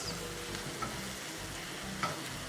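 Onion jam cooking in a pan, stirred with soft scraping strokes over a constant quiet sizzle, with two light clinks, no voices.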